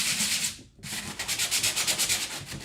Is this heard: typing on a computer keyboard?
no